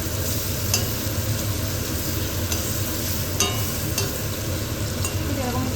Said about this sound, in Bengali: পাল্টে জাস্ট এটাকে আমি একটু হালকা হালকা করে একটু ভেজে নেব।